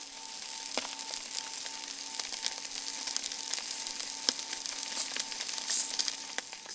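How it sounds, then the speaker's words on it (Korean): Fish grills over low, smouldering embers, giving a soft, steady sizzle with scattered crackles and pops, fairly quiet and close. "타고 남은 지 은근한 불에 생선을 구워야 한다."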